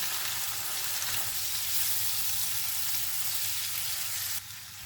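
Tomatoes and spices frying in a pan for baingan bharta make a loud, continuous sizzle close up, easing slightly just before it ends, with no voices.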